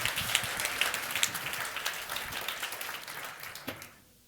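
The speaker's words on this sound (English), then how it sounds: "a round of applause for Martino Gabellic." Audience applause from a crowd at a talk on chemical recycling and packaging, steady clapping that fades out over a few seconds.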